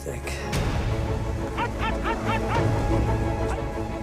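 Sled dogs pulling a sledge through a Swedish forest, with a few sharp yips and barks rising over a dense, noisy background of movement and dog chatter.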